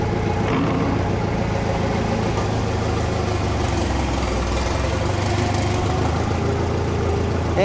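A vintage tractor engine, a Farmall H, runs steadily nearby with a constant low rumble and mechanical chatter, loud and continuous throughout with no talking.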